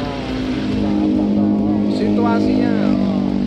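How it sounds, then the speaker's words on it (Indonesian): A motorcycle with an open exhaust roars loudly and continuously nearby, a dense, steady engine drone that fills the clip while someone speaks over it. "Motornya blong ya. Aduh, ini bikin telinga ya."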